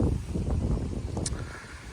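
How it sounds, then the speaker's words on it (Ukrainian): Wind buffets the microphone beside the water during a feeder fishing session, a steady low rumbling roar with gusty swells and faint rustling, close and loud. "Ще й вітер починається."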